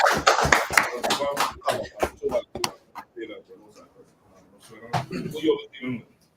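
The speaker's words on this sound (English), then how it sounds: "Clap, everyone." Hands clap in a rhythmic burst of sharp, close claps at a church Passover gathering, thinning out midway and returning briefly near the end, with a voice speaking over it.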